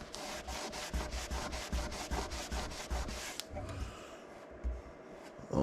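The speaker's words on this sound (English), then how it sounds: "I'm just gently rubbing across this." Adhesive remover worked by gently rubbing a thick adhesive spot off a surface by hand: a steady series of quick, close scrubbing strokes, rhythmic back-and-forth friction for about three seconds, then slower, quieter rubbing.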